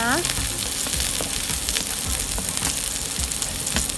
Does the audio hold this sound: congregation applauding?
no